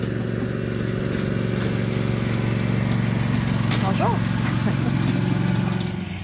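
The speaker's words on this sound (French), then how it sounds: "On va peut-être juste laisser passer le tracteur." A tractor passes along a rural spot, its steady low engine drone loud and continuous throughout, with a brief greeting spoken over it.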